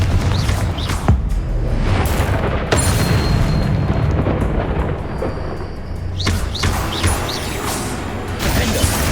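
Confringo fire spells blast in the video game Hogwarts Legacy, several booming explosions crashing over a dense rumbling battle background, with sharp bursts roughly every couple of seconds and no voices.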